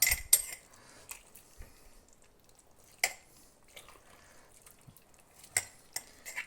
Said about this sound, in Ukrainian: Беремо наші баночки і наповнюємо нашим салатиком